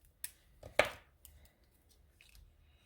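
Scissors snipping while making a tuck-fold card with rhinestones and enamel dots: a couple of crisp sharp cuts early on, then quieter handling rustles, close and fairly soft.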